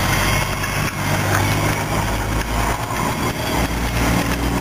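A motorcycle engine idles close by, a loud, steady chugging putter with slight rhythmic fluctuations and no one speaking.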